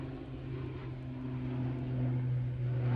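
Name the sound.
ATR turboprop aircraft departing to Belfast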